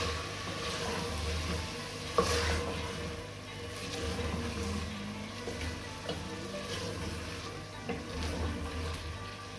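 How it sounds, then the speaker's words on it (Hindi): Beef frying with turmeric and red chilli powder for palak gosht gives a moderate, continuous sizzle with scattered stirring knocks over a low steady hum, and nobody talks. "मसाले के साथ जस्ट 2 मिनट तक हम इसको भूनेंगे"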